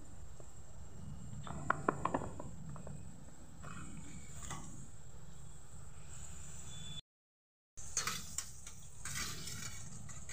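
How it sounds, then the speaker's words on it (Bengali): Okra and chilli pieces, coated in batter, fry in a pan with a steady sizzling hiss and a few sharp clicks of stirring, then a brief gap before the frying noise returns. "দেখুন ভাজা হচ্ছে, এখনও ভাজাটা হবে।"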